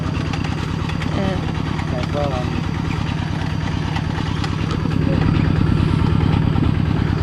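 A motorcycle engine runs steadily at a rural rubber-planting site, its low rhythmic chugging close and constant, with a voice talking over it.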